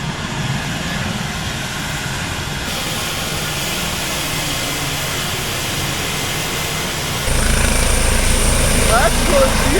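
Small aircraft engine roaring steadily as the plane prepares to take off on a flight to Île d'Yeu off the Vendée coast, growing louder and rougher toward the end, with faint voices underneath.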